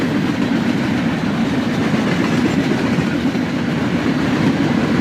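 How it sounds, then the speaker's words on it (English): A northbound CSX freight of empty flat cars behind ES40DC and ES44DC locomotives rolls past at speed, a steady loud rumble with faint clickety-clack of wheels throughout and no voices. "An ES40 DC and an ES44 DC lead these empty flat cars north."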